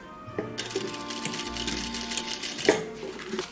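A sewing machine backstitches across the zipper end of a triangle zipper pouch, a short burst of rapid mechanical needle clatter with a few sharp clicks and a low motor hum, close and moderately loud.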